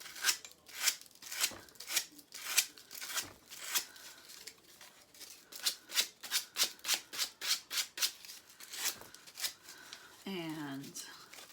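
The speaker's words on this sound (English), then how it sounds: "start sanding in a downward motion." Sanding the edges of a heart-shaped picture frame with downward strokes, a quick series of close, dry rasping scrapes in steady rhythm, ending in a brief rustle.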